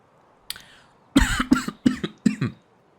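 A short fit of coughing: one light cough, then four harsh, evenly spaced coughs up close, with no talk around them.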